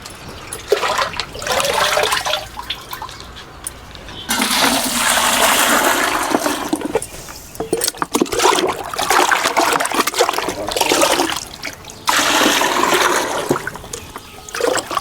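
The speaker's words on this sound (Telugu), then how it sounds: "మన మొక్కలు డైరెక్ట్గా ఇలా బకెట్తో ఇచ్చేస్తాం కదా" Rainwater pours and splashes steadily from a bucket onto plants in long bursts, with trickling and spattering between pours, fairly close and loud.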